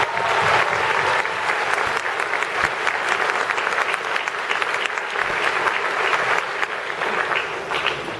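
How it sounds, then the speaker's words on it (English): Steady, dense applause from an audience at an awards ceremony, full and sustained throughout with no pauses and no voices on top. "We all applaud you"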